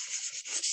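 Sandpaper rubbing on tin sheet metal in a metal embossing craft project, with steady rasping strokes repeating in quick succession, close and fairly quiet.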